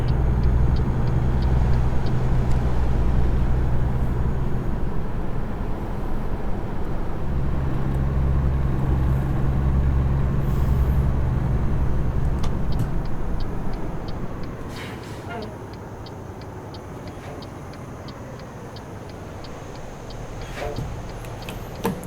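Simulated Peterbilt 579 single axle truck in American Truck Simulator, a steady low diesel engine drone with rumbling road noise that eases slightly later on, with a few faint ticks over it.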